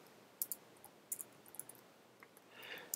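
Fingers type on a computer keyboard while a formula is entered in an Excel spreadsheet, a few faint, sparse clicks and taps in a quiet room with no talking.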